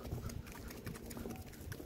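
Faint, steady clip-clop of a horse's hooves walking during a horseback ride near the Kapurpurawan Rock Formation in Ilocos Norte, a quiet, even rhythm with soft background noise.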